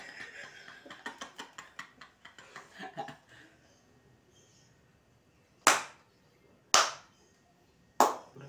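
People clap in a quick, light rhythm alongside chuckles and chatter, then after a pause three sharp, loud single claps ring out, well spaced.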